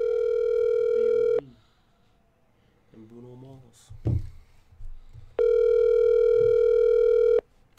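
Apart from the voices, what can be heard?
telephone ringing on an outgoing call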